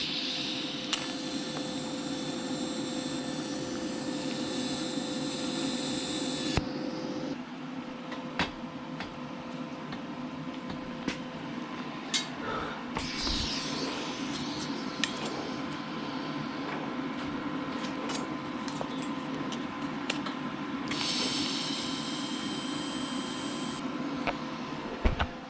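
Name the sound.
welding the rear half of a frame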